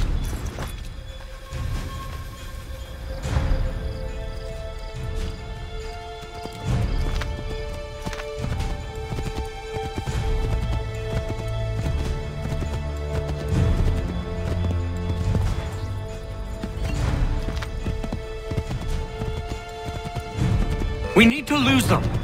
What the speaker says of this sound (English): On the horse, Connor.